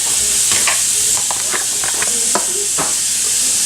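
Chopped yellow onion frying in rendered meat fat, a steady loud sizzle and hiss with scattered pops and a few stirring scrapes throughout.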